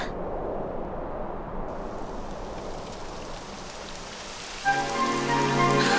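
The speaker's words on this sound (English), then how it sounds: "It would have to go and start raining, wouldn't it?" Rain begins falling in the Dragon Quest XI game world, a soft steady patter on surfaces that thickens over several seconds before a brighter game tone enters near the end.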